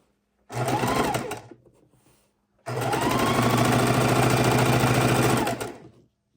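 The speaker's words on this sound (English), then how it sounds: "lining it up with the bottom, and sewing across" Sewing machine stitching across jelly roll quilt strips in two close runs, a brief burst and then a longer steady whir, with a short silence between and no talk.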